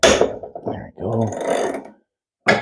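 A wrench cracks loose a bolt on a snowblower during seasonal maintenance, giving a short run of ratcheting, clicking mechanical sounds followed by a brief metallic burst after a pause, fairly close and moderately loud.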